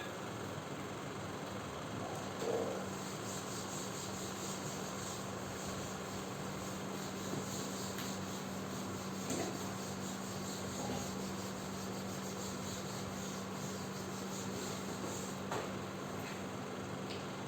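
Steady rubbing of a board being erased during a physics lesson on prisms, a continuous dry scrubbing texture at moderate level with a faint constant hum underneath and no talking.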